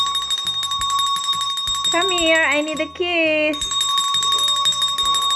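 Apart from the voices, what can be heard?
small bell ringing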